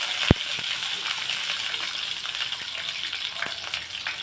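Small shallots frying in oil in a kadai give a steady, soft sizzle with faint crackles and one sharp click near the start. No voices.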